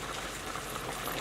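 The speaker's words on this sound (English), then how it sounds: "Now we're going to add our beans to 8 cups of water. Bring it to a boil." A pot holding beans in 8 cups of water comes to a boil, giving a steady broadband bubbling and hissing roil that stays even throughout, close and moderately loud with no voices.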